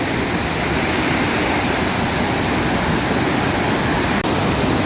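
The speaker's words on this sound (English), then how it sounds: "This is the river that engenders these waterfalls." Iguaçu Falls roaring on the Brazilian side, a dense, powerful broadband rush of falling water, close and loud, constant throughout with no voices.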